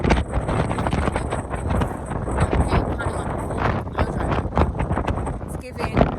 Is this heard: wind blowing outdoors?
yes